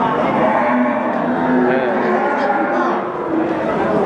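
Cattle moo among a crowd at the Wirosari cattle market in Grobogan, Java, with a few short low calls rising over constant chatter and people talking nearby.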